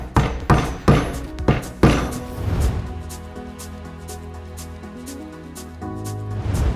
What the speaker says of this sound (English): get that in position and then tap this in with the rubber mallet